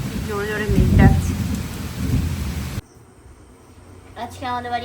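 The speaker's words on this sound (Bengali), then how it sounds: "বাইরে দারুণ বৃষ্টি শুরু হয়েছে" Heavy rain pours steadily with low thunder rumbling through it while a person talks, then the storm drops away abruptly to a quieter background as talking resumes.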